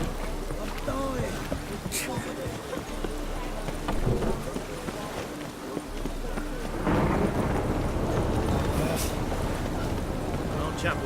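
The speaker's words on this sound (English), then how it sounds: "Must be mad running around in this rain." Steady rainfall in The Witcher 3 video game, with thunder rumbling in the background and a sudden heavier burst partway through, while a character's voice speaks over it.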